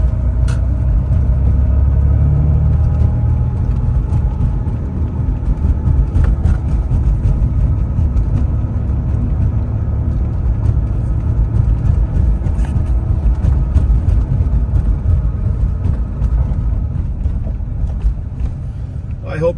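A 1989 Porsche 911 Carrera coupe, 55k miles, cruises in fourth gear at low speed through a turn, a steady low engine drone heard from inside the cabin with occasional light clicks and bumps.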